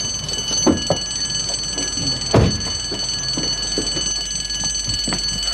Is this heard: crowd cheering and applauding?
no